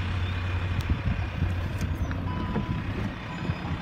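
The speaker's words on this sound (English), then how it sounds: "Got rear parking sensors." Rear parking sensor beeps on a 2014 Jeep Cherokee 2.0 Multijet Limited automatic, faint tones sounding over a steady low engine idle, with no voices.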